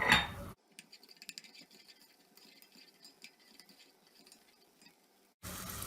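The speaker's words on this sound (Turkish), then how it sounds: "Soğanlarımızı biraz kavuralım." Faint, steady crackling and light popping of onions sautéing in a pot, low and continuous, with brief louder noise at the start and end.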